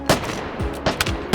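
Lever-action Henry rifle shots in the H3VR virtual range: four sharp, loud cracks spaced unevenly over a second and a half, each with a short ringing tail and mechanical clatter between.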